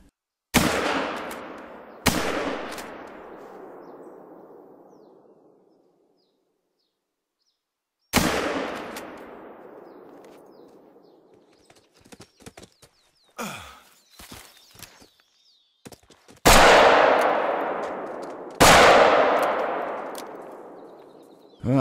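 Rifle shots ring out while hunting in theHunter: Call of the Wild. Five sharp, loud reports fall at separate moments, each with a long echoing decay across open country, and quieter clicks and handling noises come between them.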